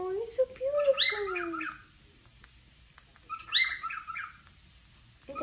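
Pet bird chirping indoors in two bursts of bright, warbling calls with a gap of quiet between, fairly close and clear.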